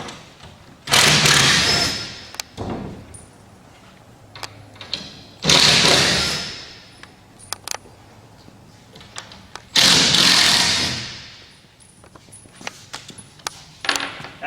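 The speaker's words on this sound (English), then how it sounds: "First thing we're going to want to do is to remove the screws from the top here." Impact driver backing screws out of the top of a wooden crate: three loud, close bursts of whirring and rattling a few seconds apart, with small clicks and knocks in between and no talking.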